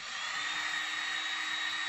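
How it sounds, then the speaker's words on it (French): A heat gun blows hot air onto an old plastic sticker on a Suzuki DR 600 motorcycle fork, giving a steady, loud, unbroken whine and rush of air with no pauses. "pour décoller l'autocollant dans un premier temps, on va le chauffer au décapeur thermique"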